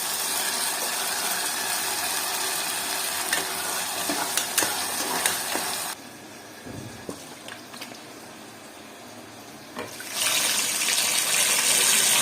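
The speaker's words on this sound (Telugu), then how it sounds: "కొంచెం సన్న మంట మీద వేయించుకుందాం" Ingredients for mutton curry fry in a pan over a low flame, a continuous close sizzle with scraping stirs and clinks, dropping quieter midway before the sizzle swells again.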